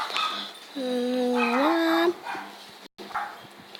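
A dog indoors near a Slither.io gaming session gives a drawn-out rising whine, then a few short yips, fairly close over faint room noise, with a brief voice nearby.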